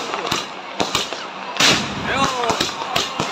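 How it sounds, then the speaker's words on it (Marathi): Firecrackers go off outdoors during a Diwali celebration, a few sharp cracks and pops scattered through a noisy crowd, with voices talking in the background. "तिथंच फटाका वाजला"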